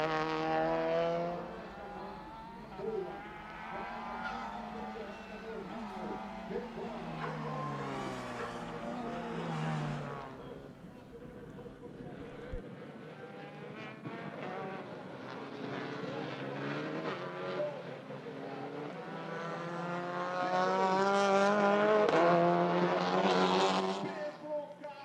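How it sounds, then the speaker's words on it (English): Several TCR touring race cars circle the track during a TCR South America and TCR Brasil race, their engines droning and shifting pitch as they pass, loud and steady with a rise near the end, under a commentator's voice. "Gennaro Rasetto has spun off the track."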